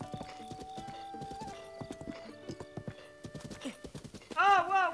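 Hooves clip-clop in a steady rhythm from a horse in the video game Zelda: Breath of the Wild, over background music, ending in a loud, close neigh.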